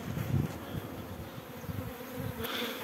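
A swarm of honey bees makes a dense, continuous buzz, close and fairly quiet, with no talk.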